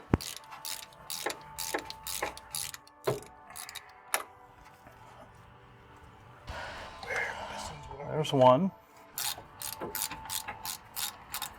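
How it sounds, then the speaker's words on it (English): Ratchet wrench clicking as 8 mm wheel-to-knuckle retaining bolts come off a 2010 Ford F-150, quick bursts of sharp clicks separated by pauses, close and fairly quiet, with someone briefly speaking and some handling noise midway. "Remove the 3 wheel to knuckle retaining bolts."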